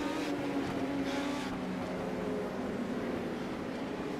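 Race cars restarting on a short track in the iRacing game, a pack of engines droning and revving together in a steady layered roar, moderately loud and continuous.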